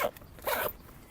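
A single quick zip on the front compartment of a blue Adidas bag, close and crisp, lasting about a quarter second in an otherwise quiet moment.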